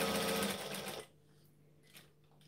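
A sewing machine runs fast and steady while stitching a gathered skirt, then stops abruptly after about a second, leaving a faint hum and a soft click.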